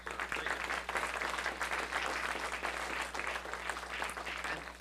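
Steady, sustained applause from a seated audience at an annual watershed district meeting, clapping evenly throughout with a low hum underneath.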